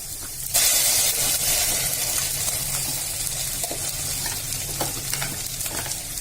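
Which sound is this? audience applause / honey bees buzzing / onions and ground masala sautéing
onions and ground masala sautéing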